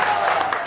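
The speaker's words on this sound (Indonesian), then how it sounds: "Tepuk tangan buat Yana Malvos." Audience applause greeting a guest at a casual religious talk in a cafe, a steady dense wash of clapping and crowd noise lasting under a second with no pauses.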